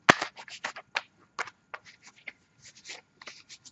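A deck of angel cards is shuffled by hand close to the microphone, with a stiff, irregular flurry of crisp riffling and snapping bursts and short pauses, and no voices.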